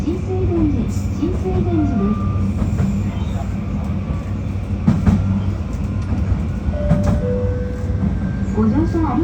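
A JR Kyushu 821 series one-man train on the Hōhi Line bound for Kumamoto runs with a steady loud rumble and motor whine, faint wheel squeals and clatter, while an onboard announcement voice speaks.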